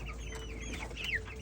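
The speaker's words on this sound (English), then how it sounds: "So here are my meat chickens." Meat chickens cluck softly on a spring homestead, a steady low flock murmur with one brighter squawk near the end, heard alone.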